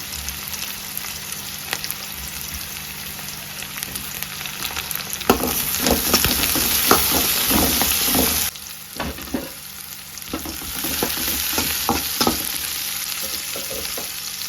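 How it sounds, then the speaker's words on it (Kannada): Large-cut onion and capsicum stir-frying in a pan for gobi manchurian gravy: a steady close sizzle broken by repeated rhythmic scraping and tossing strokes of a spatula against the pan, with a brief softer lull midway and no talk. "ಇವಾಗ ಇದಕ್ಕೆ ಕ್ಯಾಪ್ಸಿಕಮ್ ಹಾಕಬೇಕು"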